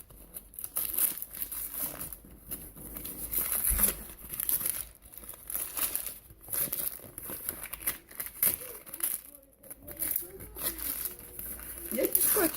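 Crinkling and tearing of packaging, with tape being ripped in irregular bursts, close by, with occasional talk mixed in.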